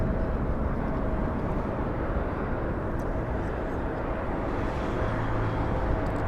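A SkyWest airliner on final approach to land at Los Angeles International Airport gives off a broad, steady roar of jet engines, loud and constant throughout with no voices.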